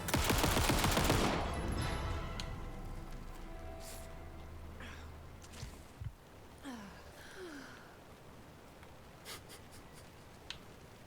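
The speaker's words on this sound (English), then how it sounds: "This is a pocket-sized assault rifle. It's not a gun. It's a hand minigun." A pocket-sized assault rifle, fired like a hand minigun, in the video game Alan Wake 2 (Night Springs DLC), lets off a loud, dense burst of rapid fire for about a second and a half. Fainter clicks and effects follow.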